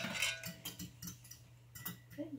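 A single egg beaten with a tablespoon of water in a bowl for pretzel egg wash, a fork or whisk clinking rhythmically against the dish in quick, close strokes.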